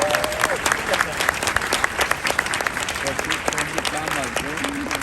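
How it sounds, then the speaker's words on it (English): A crowd applauds steadily at a US Marine graduation ceremony in San Diego, loud continuous clapping with cheering and voices mixed in throughout. "Ladies and gentlemen, a round of applause for the God's Company family."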